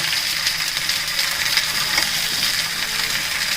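Green chillies frying in oil for a chilli pickle, a steady close sizzle and crackle holding constant throughout with no voices.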